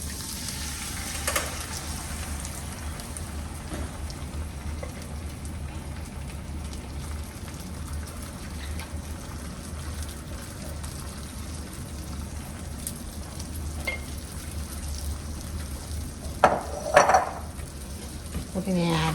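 Tomatoes sizzling as they go into a hot frying pan while making crispy chicken parmesan, a steady crackling fry holding at an even level throughout, with a couple of brief clinks of a utensil near the end.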